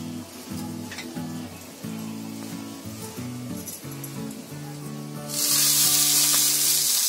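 Cumin seeds hit a spoonful of hot oil in a pan and burst into a loud, close, steady sizzle that fills the last couple of seconds.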